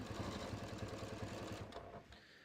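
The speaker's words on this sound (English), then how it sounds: "I'm just going to start stitching" A sewing machine runs steadily while stitching piping onto a cushion cover, a fast, even mechanical chatter up close that slows and stops near the end.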